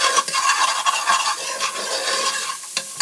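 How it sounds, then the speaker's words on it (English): Leeks or ramps hit a hot buttered pan and are swirled, giving a close, steady sizzle with scraping stir sounds layered over it, continuous and without talk. "we're going to go ahead and add our leeks or our ramps right into the pan"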